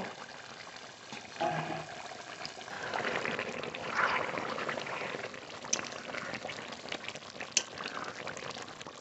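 Chicken meat boils in a covered pot, a faint, continuous bubbling simmer with soft gurgles and a couple of small clinks.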